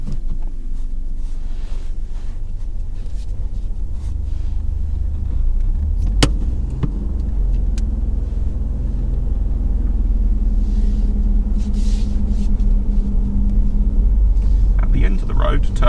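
A car pulls away at the start of a driving test, its low steady engine rumble building slightly as it moves off, with a voice talking over the road noise and a brief click partway through.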